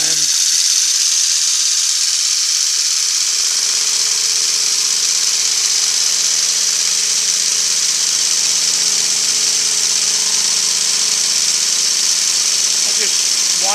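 A Lime hand shaper runs at about 1600 RPM while cutting metal, giving a steady, even mechanical drone with a faint rattling undertone throughout. Someone talks over it at times.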